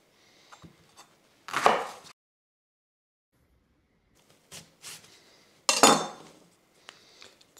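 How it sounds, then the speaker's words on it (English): A knife chops a leek on a cutting board in two short bursts of quick, crisp cuts separated by a quiet pause, close and clear. "Roughly dice the leek."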